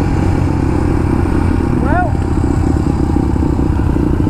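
A dirt-tired motorcycle rides on a street, its engine droning steadily and close throughout, with a brief rising whine partway through, with no talk heard.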